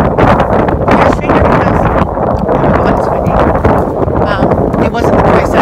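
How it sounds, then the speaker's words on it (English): Strong outdoor wind buffets the microphone in a loud, continuous, roaring rush that barely lets up, with faint voices buried beneath it. "It is so windy, as you can tell by my hair."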